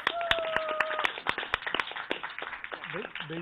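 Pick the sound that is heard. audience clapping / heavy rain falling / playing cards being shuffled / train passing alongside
audience clapping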